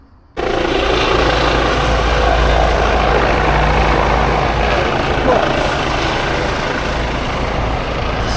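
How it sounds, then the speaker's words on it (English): A helicopter landing beside a hospital in Girona gives a loud, close roar of rotor and engine, steady and unbroken from just after the start to the end. "That was just a helicopter that landed."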